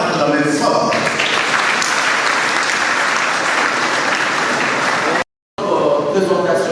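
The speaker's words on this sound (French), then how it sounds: "Je demande encore une fois de plus de pouvoir acclamer fort." Loud, sustained applause from a university lecture-hall audience at an entrepreneurship conference, dense clapping filling the room, cut by a brief dropout near the end before resuming.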